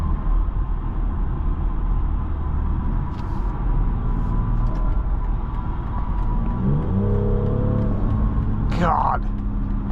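A BMW X3 M40i SUV accelerating in sport mode, heard from inside as a steady low engine rumble with rising tonal lines as revs climb, a person talking over it.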